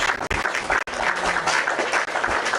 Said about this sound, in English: I'm gonna clap just to appreciate you.